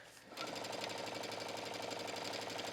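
A sewing machine back-stitching a seam on denim, its rapid, even needle clatter starting abruptly after a brief pause and running steadily and close.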